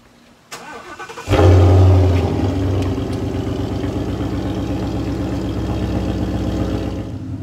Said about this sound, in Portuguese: É um carro americano, para quem não sabe. Tem um motor V8 e o barulho dele é... estrondoso.